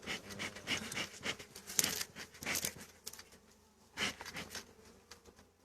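Honeybees buzz around an opened hive during an April colony inspection, a drifting, uneven hum that swells and fades, rising to louder bursts near the listener, with no talking over it.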